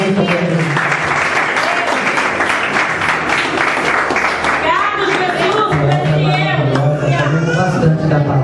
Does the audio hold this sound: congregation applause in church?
yes